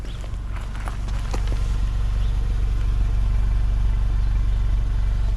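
Exhaust of a misfiring 2007 VW Beetle engine, a steady close rumble with a faint uneven pulse, holding at a constant level from start to end with no talking.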